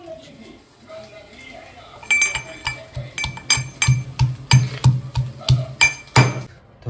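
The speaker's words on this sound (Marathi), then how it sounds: "मिरच्या फ्राय होत आहेत तोपर्यंत लसूण कुटून घेते." Garlic is pounded in a mortar in a home kitchen: about a dozen sharp, evenly spaced thuds with metallic clinks, close and fairly loud, starting after a quiet opening.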